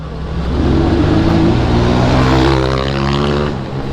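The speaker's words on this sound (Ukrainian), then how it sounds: "О, хтось там на прямотоках їде прям." A motorcycle with straight-through exhausts rides past on a night street in Kyiv, a loud, rising and fading engine roar that swells over a couple of seconds and then recedes.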